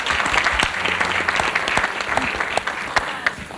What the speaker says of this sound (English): Let's clap for Sue.